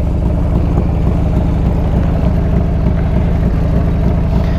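The 80 cubic inch Evo motor of a 1997 Harley Ultra Classic runs in a steady, loud, close rumble with an even low throb and no voices.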